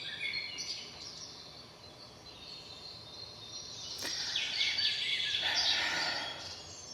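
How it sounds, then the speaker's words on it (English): Birds sing and chirp faintly in the background, a soft continuous chorus of high tweets over a quiet outdoor hush. "Y'all don't need to hear birds continually."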